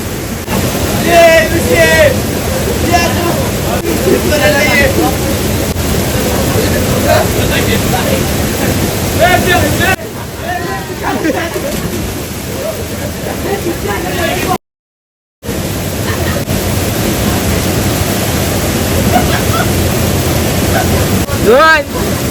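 A hidden waterfall at Matheran roars as a steady, loud broadband rush throughout, with people talking over it and a brief dropout midway.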